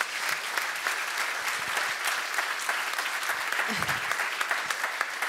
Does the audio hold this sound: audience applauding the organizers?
yes